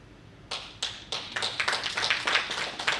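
Scattered audience clapping at a distributor training session begins with a few separate claps and builds into sparse, uneven applause from a modest crowd, fairly faint and without voices.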